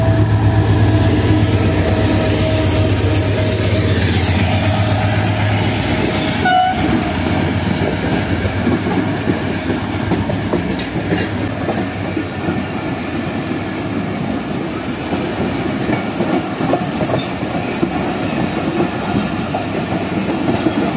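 A passenger train on the Karachi–Rawalpindi route rolls past close by for the whole stretch, its wheels clattering over rail joints under a continuous loud rumble, with horn tones early on.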